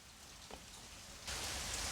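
Steady rain pours down outside a school on a wet morning, a dense continuous hiss that swells noticeably heavier partway through, with no voices present.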